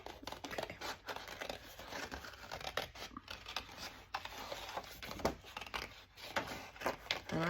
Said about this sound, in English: I think I need better scissors. These are struggling.